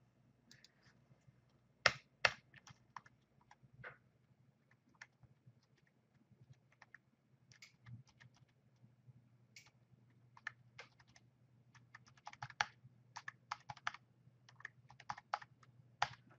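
Typing on a computer keyboard during a MySQL tutorial, heard as sparse, faint, close key clicks in irregular bursts over a low steady hum, growing busier toward the end.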